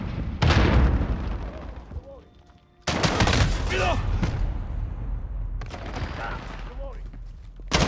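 Grenade explosion and gunfire in the Call of Duty Modern Warfare open beta, loud booms and bursts filling the scene with a brief lull midway, mixed with game voices and effects.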